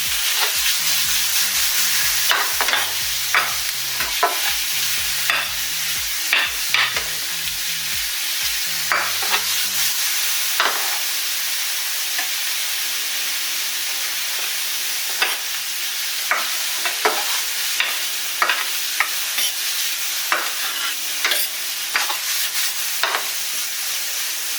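Shrimp pasta ingredients fry and sizzle in a pan over a medium flame, a steady hiss with scattered crackles and spoon scrapes throughout, close and alone.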